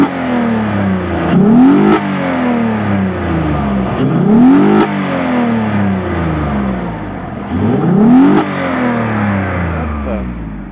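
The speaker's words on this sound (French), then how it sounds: "Alors, je vais vous faire écouter le moteur." A Citroën C5 V6 engine runs and is revved several times, each rising roar falling back to a steady idle, loud and close with no talking.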